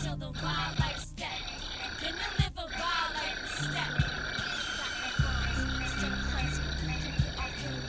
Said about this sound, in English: I should sample the frogs outside